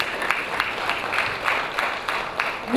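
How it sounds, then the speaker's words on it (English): Audience round of applause for a speaker being introduced at a sales and marketing talk on sustainable FMCG practice, a steady wash of clapping with no voices over it. "So please give him a round of applause."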